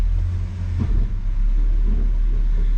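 A 1966 Ford Galaxie in gear pulls away once its parking brake is released, with a deep, steady engine rumble close by and a brief swell in the middle as the car begins to roll.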